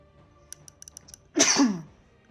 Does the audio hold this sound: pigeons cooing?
no